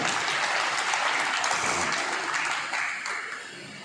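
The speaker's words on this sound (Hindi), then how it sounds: "बजाओ तालियां इनके लिए।" A crowd claps steadily at a ministerial employees' awareness conference in Sri Ganganagar, a dense, loud wash of applause that holds for several seconds and then tapers slightly toward the end.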